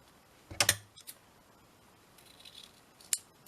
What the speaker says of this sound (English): So we pick it up, then we know how much sticker to cut off, don't we?